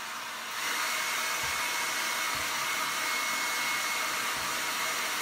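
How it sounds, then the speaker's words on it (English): A hair dryer switches on and runs with a steady, loud airy whoosh and a constant whine, alone with no voices, and a few faint low bumps underneath. "the hairdryer is going on again"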